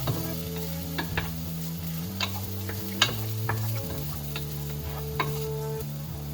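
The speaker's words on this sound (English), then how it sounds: "When frying the onions, aim for a gentle golden color." Onions fry gently in a pan for fried rice, a steady close sizzle with occasional light taps and stirring clicks and a low hum beneath, no voices.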